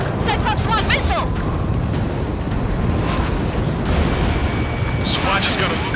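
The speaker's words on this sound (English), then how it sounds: "Cyclops 1, missile!" Missile launch in the combat flight game Ace Combat 7, a loud continuous roaring rush over dense jet and cloud ambience, with radio voices and beeping alerts layered above.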